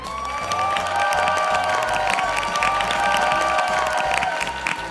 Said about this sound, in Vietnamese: Một tràng pháo tay cho hai bạn